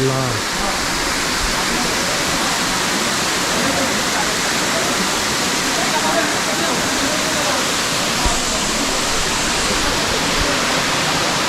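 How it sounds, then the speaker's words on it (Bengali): Steady, loud rush of falling water from a high waterfall in the Rangamati hills, Bangladesh, a continuous broadband roar with no breaks, as if standing close to the falls. "মুক্তার মতো উপর থেকে পানিগুলো মুক্তার মতো পরে"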